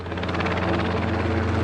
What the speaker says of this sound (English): The helicopter, I'm pointing the microphone directly at it.